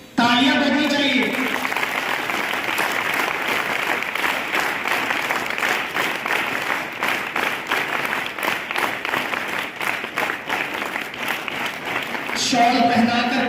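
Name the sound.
audience applause welcoming a speaker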